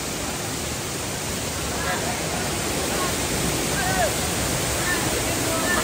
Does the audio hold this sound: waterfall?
yes